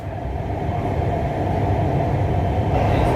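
Lahore Orange Line metro train running along the track, a steady loud rumble with constant low-frequency drone and rolling wheel noise throughout, no voices.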